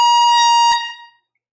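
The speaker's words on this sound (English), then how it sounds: "Let's blow the air horn." A single loud, blaring air horn blast at a live record sale holds steady, then cuts off and fades quickly into silence.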